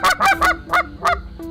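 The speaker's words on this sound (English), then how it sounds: "this is a goose call." An aluminum goose call blown in a series of six sharp, throaty honks with a steady rhythm, close and loud, sounding much like a real goose.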